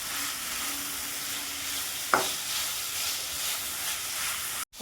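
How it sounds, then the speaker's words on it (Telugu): Boiled cluster beans go into a hot pan and sauté with a steady, soft frying sizzle, with a brief stir or clatter midway and a sharp knock near the end. "ఉడికించుకున్న ముక్కల్ని ఇలా వేసుకోవాలి. వేసుకున్నాక 5 నిమిషాలు మగ్గించుకోవాలండి."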